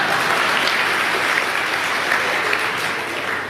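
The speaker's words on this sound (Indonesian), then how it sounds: "ya tepuk tangan yuk." A church congregation claps together in sustained, dense applause that fills the room evenly, with no voices rising above it and only a slight tapering near the end.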